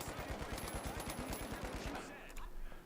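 Rapid gunfire in a video game, close and loud, a steady run of sharp shots for about two seconds before it drops off, with a few quieter reports trailing at the end.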